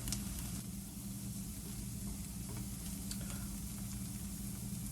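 Vegetables for a garden succotash sweat in a pan, giving a steady, soft sizzle with faint stirring scrapes throughout, close and even, with no talking.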